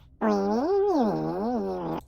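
A voice imitates a squeaky, babbling villager chatter, one continuous warbling vocal sound with rising and falling pitch, close and loud.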